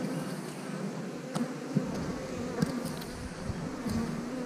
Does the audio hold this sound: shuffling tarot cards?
no